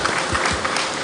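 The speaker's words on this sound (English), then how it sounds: "So another round of applause for them." Dense, steady applause from a conference audience fills a large hall, loud and continuous for a brief burst.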